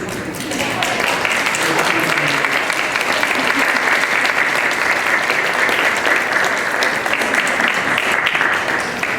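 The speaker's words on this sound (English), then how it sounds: "give their family members and loved ones a big round of applause" A graduation hooding ceremony audience applauds loudly and steadily for family members and loved ones, a dense wash of clapping that fills the hall for the whole stretch without pause.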